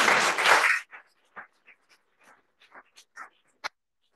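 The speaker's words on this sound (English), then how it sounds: "All right, let's give them another round of applause." Applause from a county board meeting audience fills the room in a short, dense burst that stops abruptly, followed by quiet scattered room noises and small movements.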